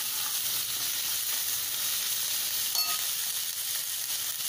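Soaked peanuts stirred into vegetables frying in a pan for a Maharashtrian bhogichi bhaji, giving a steady close sizzle and hiss throughout, with one brief clink of the spoon midway and no talk.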